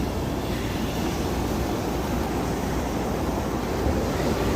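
Ocean surf rolling onto a beach at Carolina Beach, a steady broadband wash with wind noise, continuous and fairly loud, with no voices.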